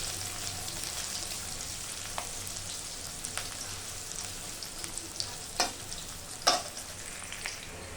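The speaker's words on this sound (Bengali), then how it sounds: "এই পেঁয়াজগুলো দিয়ে আমি পুরো বেরেস্তা করিয়ে নেব, লাল লাল করে ভেজে বেরেস্তা বানিয়ে নেব।" Sliced onions fry in hot oil in a wok until they turn deep red for chicken korma, giving a steady close sizzle with occasional louder pops and stirring scrapes.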